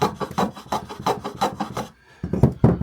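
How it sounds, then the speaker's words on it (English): Wood being hand-sanded with 80 grit sandpaper, a rhythmic series of rasping back-and-forth strokes, close and fairly loud, with a brief pause before two more strokes. "like so, bit of 80 grit sandpaper"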